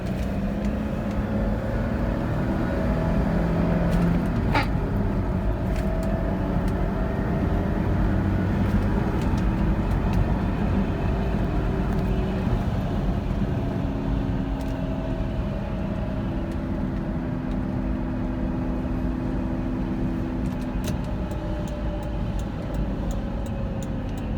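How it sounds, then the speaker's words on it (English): A Toyota 4Runner with a 5-speed manual accelerates hard in second gear from the cabin, engine note steadily rising under a constant loud drone of road and wind noise, no talking. "So we're gonna go ahead and do a hard acceleration."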